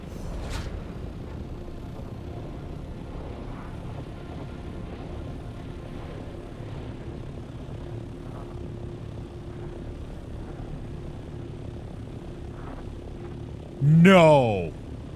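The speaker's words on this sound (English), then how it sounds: "There's another copter somewhere. I don't know where it is, though, but I can hear it." Helicopter flying somewhere nearby in the video game Dune: Awakening, a steady low rotor drone running under the game sounds throughout, with a short louder burst near the end.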